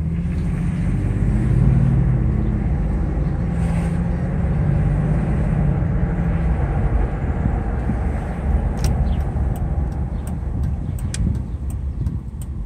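A Mercedes S600 coupe rolls along and swings through a U-turn, a steady low engine and road rumble heard from inside the car, with a few faint clicks near the end.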